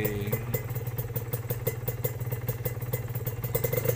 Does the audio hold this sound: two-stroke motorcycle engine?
yes